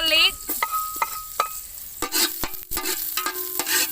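Cooking oil sizzles in a pan while pork ears and tail are prepared, a crackling hiss broken by clinks and scraping stir sounds, close and fairly loud.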